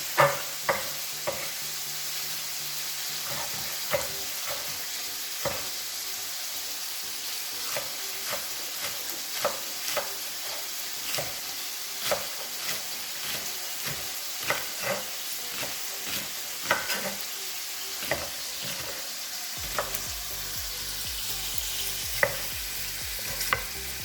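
Onions fry in a pan for a dandelion fricassee, making a steady sizzle broken by regular scraping stirs of a utensil, with no one speaking.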